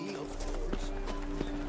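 Hooves of the horse Roach in The Witcher video game, a soft clip-clop at a walking pace under faint game ambience and a low hum, with someone talking over it.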